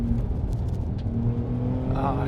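A 2021 Porsche 911 Turbo drives along an open country road, its engine and road noise forming a steady loud drone, with a brief voice near the end.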